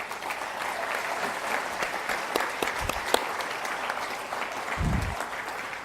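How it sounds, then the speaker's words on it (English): A large convocation audience applauds graduates in a hall, with steady, dense clapping that holds evenly throughout and swells slightly near the end. "giving our graduates and their family members who have supported them a big round of applause"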